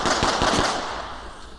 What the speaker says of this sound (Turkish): Ve ardından silahlar patlıyor.